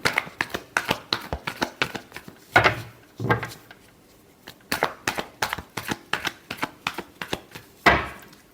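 Tarot cards being shuffled by hand in a love-reading session, a quick run of crisp riffling taps in bursts, pausing briefly and resuming, close and fairly clear with no talking.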